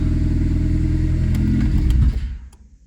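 A 1997 Honda Civic LX with a rattling exhaust and squealing belts idles with a low, close engine rumble, then cuts off and fades near the end.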